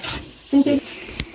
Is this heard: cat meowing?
no